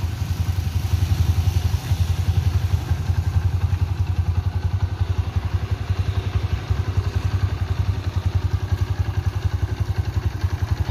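A Honda Mega Pro Primus motorcycle, original factory standard and low mileage, idles smoothly and steadily up close, its engine note holding an even rhythmic putter throughout with no talk.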